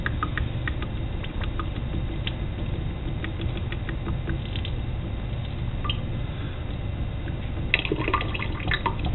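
Water siphons off the side of a lab water trough and drains into a sink, making a steady, continuous trickling patter with scattered drips throughout and no talking.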